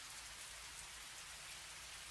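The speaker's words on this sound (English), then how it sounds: "Overhead, the rain had begun to intensify." Steady rain falling overhead, a dense, even hiss of drops on surfaces with a low rumbling undertone, continuous and fairly close throughout with no voices.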